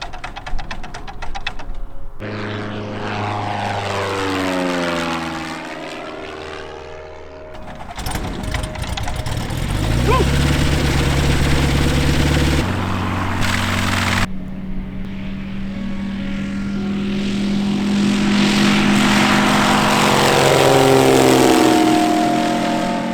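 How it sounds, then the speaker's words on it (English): A small propeller bush plane drones loudly nearby, its engine pitch sweeping up and down as it passes, with a sharp cut partway through. "random bush planes just landing in their freaking backyard"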